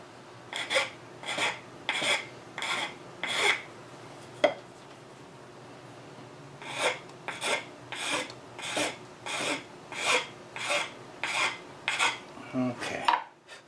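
Wood is beveled for a Queen Anne chair socket with a rasp or file, giving a steady series of close, rhythmic rasping strokes, a short pause, then more strokes.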